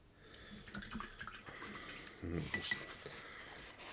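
A paintbrush rinsed in a water pot at a miniature painting bench, with light clinks and taps against the container, small splashes and sloshes, close and fairly quiet.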